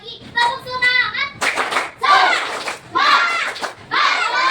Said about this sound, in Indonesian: Kurang semangat, sekali lagi. Tepuk semangat.